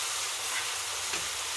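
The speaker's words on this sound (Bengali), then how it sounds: "এখন দিয়ে দিব কচুগুলো, দিয়ে সুন্দরভাবে নেড়ে নেব।" Taro pieces frying in spiced masala as they are stirred in the pan, a steady faint sizzle and hiss with a light scrape, close and quiet.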